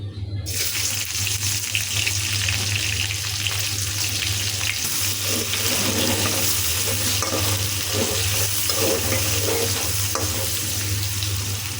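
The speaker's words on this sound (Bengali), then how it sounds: "এখন আরেকটু তেল দিয়ে দিচ্ছি, পেঁয়াজ কুচি" Chopped onions fry in extra oil in a pan just emptied of chicken, a loud, dense, unbroken sizzle up close with faint scraping from stirring underneath.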